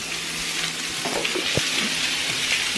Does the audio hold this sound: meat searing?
yes